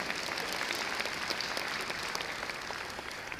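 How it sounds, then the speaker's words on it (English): An audience applauds at an MLK Day 2020 keynote address, a dense steady wash of clapping from many hands that holds throughout and only slightly fades at the end. "applaud for yourselves being in this thing together"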